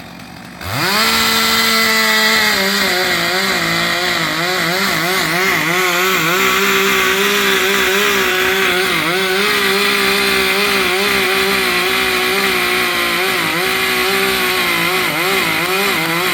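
A chainsaw runs loud and steady at close range while felling a tree, its engine held near constant and revving slightly throughout.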